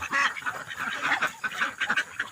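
A group of domestic ducks raised on a farm quacking in overlapping, raspy calls, close and continuous for a couple of seconds, no talking.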